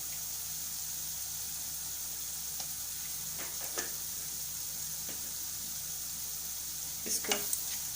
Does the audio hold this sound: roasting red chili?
yes